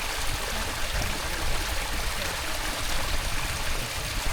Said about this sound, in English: this looks like a super powerful stream